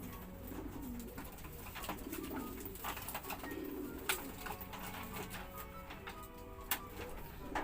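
Blue bar pigeons coo in low, soft rolling phrases, fairly faint, with scattered light ticks and rustles around them.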